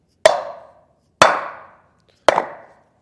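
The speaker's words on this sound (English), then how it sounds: "just with a block of wood, we'll hammer that down." A block of wood struck against a Timken grease seal as it is driven into a hub on a 2022 Forest River Rockwood Geo Pro trailer: three sharp, solid knocks about a second apart, each with a short decaying ring.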